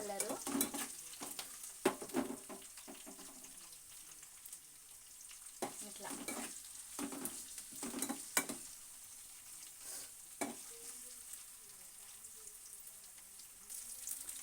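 Rice frying for Telugu-style egg rice, stirred in a pan with a faint continuous sizzle and repeated light scraping and tapping strokes of a spoon, quiet and close, with no talking.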